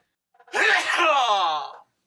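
A person's single sneeze erupts loud and close, about a second long, with a short intake of breath just before it and silence afterward.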